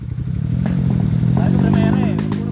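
Dirt motorcycle engine revving on a muddy uphill trail, a close, steady, throbbing putter that swells slightly, with people talking over it.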